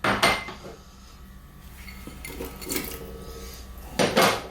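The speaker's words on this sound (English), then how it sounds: "we're now going to drop in some potatoes" Chunky potato pieces drop into a pressure cooker of lamb curry, making hard clunks and clatters against the metal pot at the start and again near the end, with quieter shuffling between.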